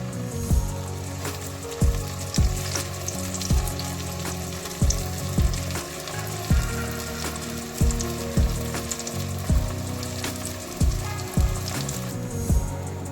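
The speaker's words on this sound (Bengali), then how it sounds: "তেল গরম হলে এবার আমরা চিকেনগুলোকে একে একে ডিপ ফ্রাই করে নেব।" Coated chicken pieces deep frying in hot oil for chicken popcorn, a steady loud sizzle with repeated sharp clatters and scrapes of a utensil against the pan at a fairly regular pace.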